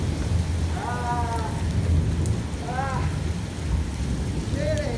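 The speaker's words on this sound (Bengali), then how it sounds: "কাতারে বৃষ্টি" Steady rain falls in Qatar, a continuous broadband wash with low rumble, while a few voices with rising, singsong tones come and go over it.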